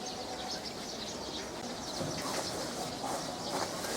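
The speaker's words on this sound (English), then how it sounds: "You feed the sparrows there." Sparrows at a Buddhist temple in icy Harbin, China, give quick faint chirps and tweets, scattered and at a distance over a steady outdoor background hiss, with no one speaking.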